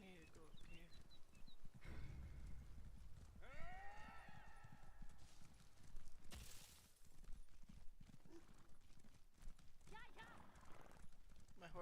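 Horse hooves clip-clop through a session of The Elder Scrolls Online, with a steady galloping beat running under a talking player, broken by a few sharp game effects and a brief whinny.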